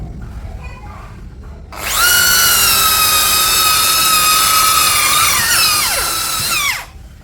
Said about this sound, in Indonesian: Di sini kita akan mengebor dengan mata bor auger.